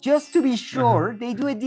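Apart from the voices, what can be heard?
None of the usual background noises is heard.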